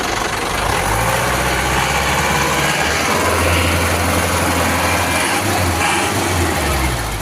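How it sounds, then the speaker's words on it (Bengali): A loud, rough engine of an old JAC auto-rickshaw runs close by, chugging steadily with a low throbbing rumble that swells slightly as it's revved. "এই যে ইঞ্জিনের সাউন্ড আপনারা শুনতে পারতেছেন"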